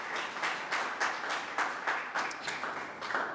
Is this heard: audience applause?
yes